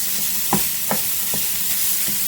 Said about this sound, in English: what we want to do is we want to break down the meat